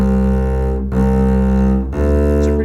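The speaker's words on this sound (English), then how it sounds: "Now take the bow and we're going to see if we can imitate that same length." Sustained bowed string notes held at full length, loud and steady with rich harmonics, separated only by two brief bow changes near one and two seconds; no voices.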